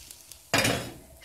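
A sudden burst of sizzling from an omelette frying in a hot pan starts midway, loud and close, then slowly eases off after a quiet stretch.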